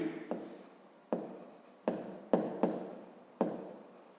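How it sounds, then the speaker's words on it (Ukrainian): Pen or pencil on paper writes out a math solution by hand, with a series of sharp taps and scratchy strokes, close and distinct, with no talk. "Давайте так і запишемо"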